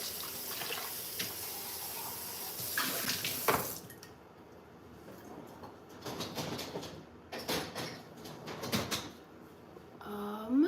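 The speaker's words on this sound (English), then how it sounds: "I just gotta clear out my sink first" Water runs in a kitchen sink as it is cleared out, a continuous hiss at first that gives way to intermittent splashing and clattering of dishes, fairly quiet and close.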